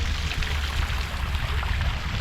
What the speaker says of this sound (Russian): Плюс еще моросит мелкий дождик.